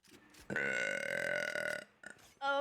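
One long, loud, voiced burp, close to the mic and lasting over a second, followed by a brief vocal sound.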